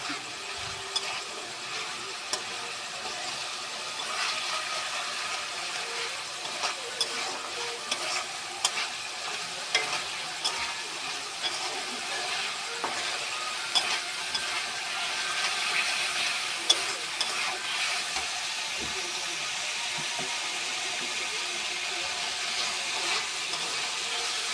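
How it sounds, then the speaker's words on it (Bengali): Spices for a vegetarian Bengali chana dal sizzle steadily in hot oil in a pan, a continuous close frying hiss with scattered sharp crackles and occasional scrapes of stirring, with no talk. "মশলাটা কষিয়ে নিলাম, ডালটা দিয়ে দেবো।"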